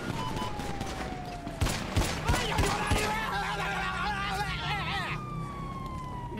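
Several sharp gunshots crack in quick succession during a GTA roleplay game, mixed with a wailing police siren and background voices talking.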